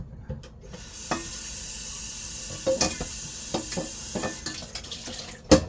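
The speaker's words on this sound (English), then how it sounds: "Okay, now I'm going to rinse this out. Rinse this pot out a little bit." Tap water runs into a pot being rinsed out at a kitchen sink, a steady broadband rush with several sharp clanks and splashes as the pot is handled, the loudest knock near the end.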